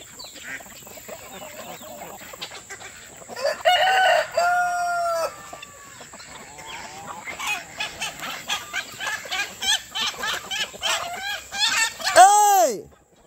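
Chickens cluck and a rooster crows loudly near the end, with scattered bird calls through the yard and a person's voice speaking over the flock.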